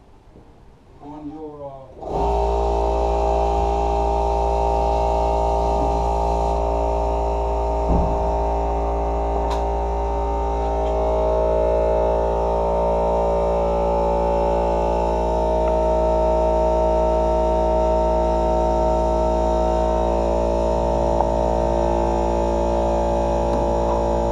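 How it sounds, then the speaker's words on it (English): An air compressor in a woodworking shop starts up and runs steadily, a loud, constant motor hum with strong tonal harmonics that continues unbroken after a brief start. "what you're listening to now is the compressor running"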